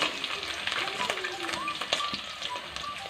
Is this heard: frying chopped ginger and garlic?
yes